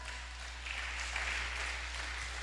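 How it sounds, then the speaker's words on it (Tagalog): Congregation clapping together at a midweek church service, a steady wash of applause that swells slightly and holds, with a low hum underneath. "Palakpak."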